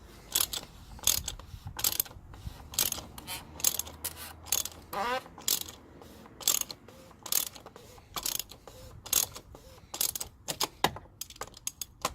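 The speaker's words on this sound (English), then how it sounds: "when you guys are tightening the cap with the ratchet, don't over tighten it" A ratchet wrench tightens the plastic oil filter cap on a 2015-2017 Kia Sedona with a 3.3L V6, giving repeated quick bursts of close, crisp clicking in uneven spurts with no talking.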